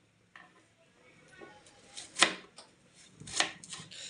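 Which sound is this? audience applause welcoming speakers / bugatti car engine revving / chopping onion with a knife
chopping onion with a knife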